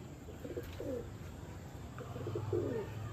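Two soft, low pigeon coos a couple of seconds apart, close by over faint background noise.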